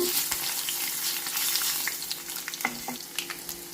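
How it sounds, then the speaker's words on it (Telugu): Garlic cloves frying with urad dal in hot oil for a Telugu coriander pickle tempering, a steady close sizzle and crackle with occasional sharper pops and light stirring clinks, and no talking. "ఇప్పుడు వెల్లుల్లిపాయలు వేస్తున్నాను"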